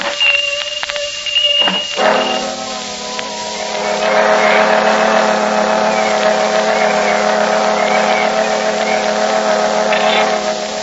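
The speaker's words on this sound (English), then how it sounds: "Oh, there go the fire engines." A vintage radio-drama sound effect of fire engines passing: a few brief tones open it, then a loud, steady engine roar with droning tones holds for the rest, with no talking.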